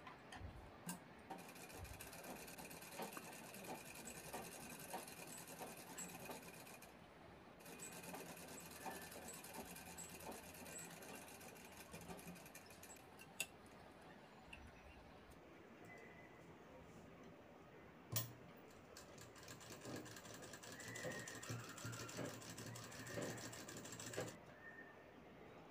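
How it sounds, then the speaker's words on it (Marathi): A sewing machine stitches along both side seams of a blouse piece, its fast mechanical ticking running steadily for most of the stretch with brief pauses, at moderate volume and close by. "साईडच्या दोन्ही बाजू शिवून घ्यायचे आहेत।"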